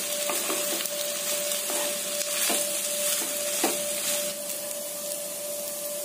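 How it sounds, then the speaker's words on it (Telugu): Cooked basmati rice being stirred in a pan for egg fried rice, soft scraping and tossing strokes over a steady sizzle and hum, close and fairly quiet, with no talk. "ఇప్పుడు ఇది మొత్తం బాగా కలుపుకోవాలి."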